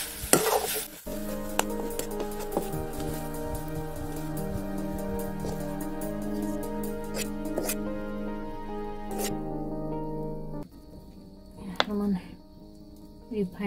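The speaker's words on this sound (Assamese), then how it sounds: "গুড়খিনিও একেলগে ভাজিব লাগিব।" Grated coconut and finely chopped jaggery fry together in a wok while a spoon stirs through them. Steady sizzling and scraping run close throughout, under sustained tonal sound, with a brief lull near the end.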